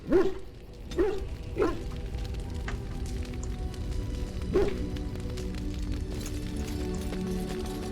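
A dog in the video game Dragon Age: Origins barks several times, three quick woofs followed by a fourth after a pause, over a steady game ambience with footsteps.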